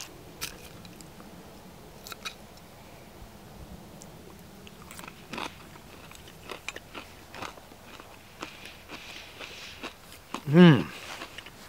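Crispy bacon being bitten and chewed at a bushcraft camp: scattered soft crunches over quiet outdoor ambience, closing with one louder, close crunch, with a voice speaking at times.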